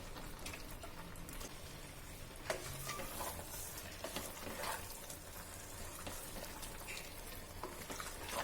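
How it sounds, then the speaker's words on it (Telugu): About 750 grams of cleaned chicken goes into cooking masala in a pan for Dindigul Thalapakatti biryani, giving a continuous busy sizzle with scattered sharp crackles and stirring scrapes throughout. "ఈ మసాలా అంతా బాగా కుక్ అయిన తర్వాత ఒక 750 గ్రామ్స్ క్లీన్ చేసిన చికెన్ వేసుకోవాలి"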